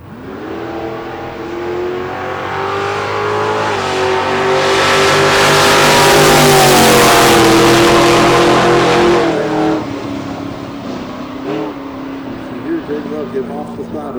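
Nitro drag racing car at a Top Fuel and Funny Car event launching and accelerating down the strip, a loud harmonic engine roar rising and building for about ten seconds, then easing off, with a commentator talking over it.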